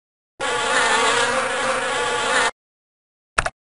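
Cartoon bees from the children's video game Bailey's Book House give a dense, loud buzzing drone lasting about two seconds, followed by a short buzzing blip.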